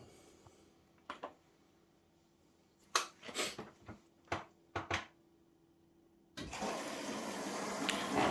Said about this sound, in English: water's coming in here through the solenoid